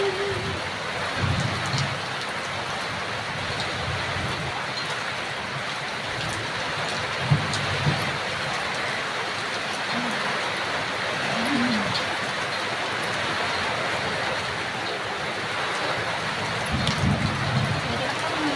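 Steady rain falls throughout as a dense, even hiss, with faint low rumbles and soft voices drifting in and out beneath it.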